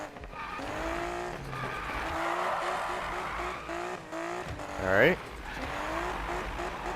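Nissan Skyline R32 grip build in the Need for Speed 2015 video game, a sustained revving engine with shifting pitch and a sharp rising tire squeal near the end, with someone speaking briefly.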